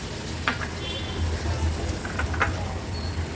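Ingredients sautéing in a pan for an Agri Koli style prawn and potato curry, before the potatoes go in: a faint, steady sizzle with a few light clinks, close by.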